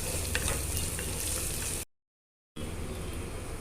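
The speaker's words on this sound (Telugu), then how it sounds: "రొయ్యలు వేసానండి. ఒక 2 నిమిషాలు ఫ్రై చేసుకుందాము." Prawns fry with ginger garlic paste in a pan for an okra prawn curry, a steady dense sizzle that stops into a brief silence and then resumes just as strong.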